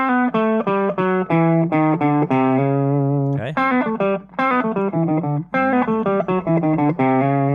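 Electric guitar plays a blues lick high up the neck, then repeats the same phrase lower down, with clear sustained notes in a steady rhythm. A brief spoken word sits between phrases.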